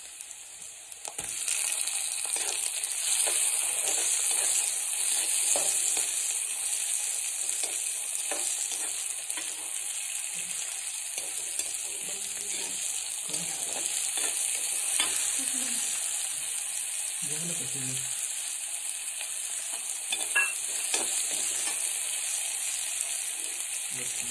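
Onion fries in a pan for shev bhaji, giving a steady sizzle with occasional stirring scrapes, heard close and continuous for a long stretch with no talking.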